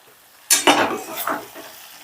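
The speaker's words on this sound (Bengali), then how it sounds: "এবার চিনিটাও একটু নেড়ে চেড়ে বেশ ভালো করে মিশিয়ে দেব।" Sugar being stirred into a sautéed bean masala for sim makhani: a sudden scrape and clatter of a spoon in the pan, followed by a few softer stirring strokes over a light sizzle, with no voices.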